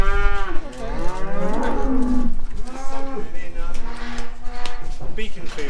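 Cattle on a farm moo loudly and close by, with several drawn-out calls in succession.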